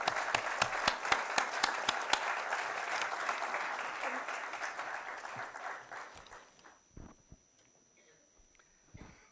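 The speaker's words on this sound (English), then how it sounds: "welcome with a huge round of applause our chief guest of the day" An audience gives a big round of applause to welcome the chief guest, a National Stock Exchange business head, onto the stage at a morning event, loud and steady with sharp individual claps before fading out near the end.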